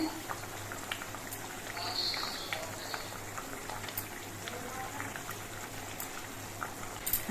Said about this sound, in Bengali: মাছ দিয়ে আরো মিনিট পাঁচে ধরে ফুটিয়ে নেব